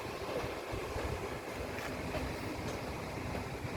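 An old vintage locomotive train passes in Norway, heard as a faint, steady rolling rumble and rail hiss at a distance, with no talk.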